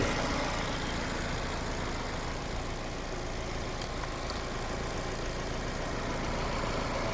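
A Fiat 500X with a 1.4 MultiAir turbo petrol engine and automatic gearbox idles with the hood open, a steady, even low hum heard up close without talk.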